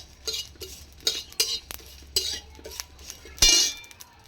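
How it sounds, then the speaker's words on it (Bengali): Metal utensil scrapes and clinks against a wok while stirring bay leaves and panch phoron spices, in irregular strokes, close and fairly loud, with one sharper clang near the end. "এসবগুলো কড়াই নেড়ে নিচ্ছি এগুলো"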